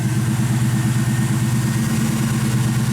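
A 1973 Pontiac Formula Trans Am V8 idles steadily through its dual exhaust with a deep, rumbling, pulsing note, loud and close, with no other sounds.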